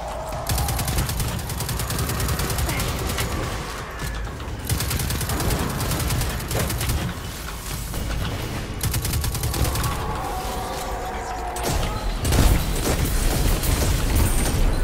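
Rapid gunfire from a weapon in Destiny 2, a continuous loud stream of sharp shots with mechanical clatter, firing close and steady for the whole stretch with brief dips and a heavier boom near the end.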